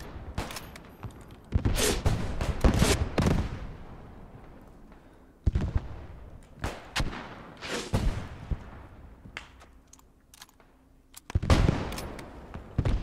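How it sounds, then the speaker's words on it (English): Video game Post Scriptum battle in the Nijmegen campaign: bursts of rapid gunfire and heavy booming tank shots crack in loud, irregular volleys with short lulls between them. "We're being fired at, stay covered."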